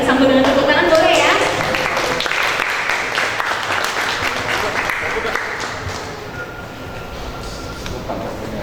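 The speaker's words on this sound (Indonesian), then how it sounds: "Kita sambut dengan tepuk tangan, boleh ya?" An audience at a talk event applauds for several seconds, the dense clapping loudest at the start and gradually thinning out, with voices mixed in beneath it.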